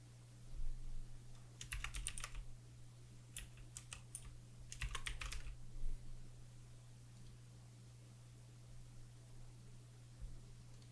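Computer keyboard typing during a Vampire Survivors gaming session, two quick bursts of clicky keystrokes over a steady low hum, then mostly quiet with a single faint tap near the end.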